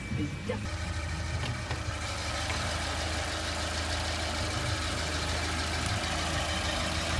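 A Volvo 940 wagon's 2.3-litre B230 four-cylinder engine idles steadily with a low, even rumble, close and constant throughout with no speech over it.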